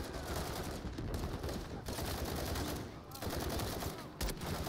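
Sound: gunshots in the video game Call of Duty: Modern Warfare 3

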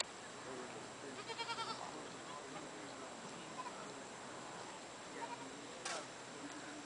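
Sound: goats

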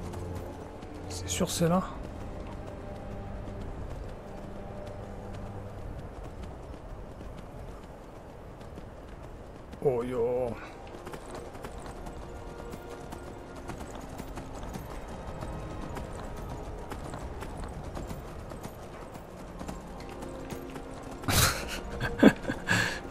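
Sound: horse galloping in the video game Skyrim

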